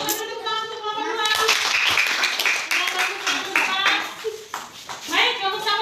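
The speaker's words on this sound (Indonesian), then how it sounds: "tepuk tangan untuk kelompok dua" Primary school children in a classroom clap for a student group, with a burst of lively applause rising after a moment and continuing under a teacher's talking and children's voices.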